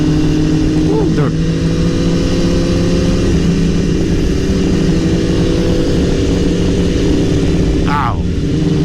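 Sport motorcycle riding on a rough Colorado road at night, a steady, close engine drone with wind roar throughout and a couple of short whining surges; no talking.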